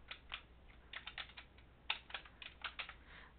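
Typing on a computer keyboard while entering account details, a quick, irregular patter of key clicks with short bursts and brief pauses, close and clear over a quiet background.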